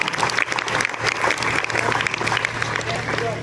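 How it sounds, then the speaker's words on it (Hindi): At a school event, a crowd of students claps vigorously and continuously. The dense applause stays loud and steady throughout, with voices mixed in among the clapping. "नैतिक के लिए भाई जोरदार तालियां इस बच्चे के लिए"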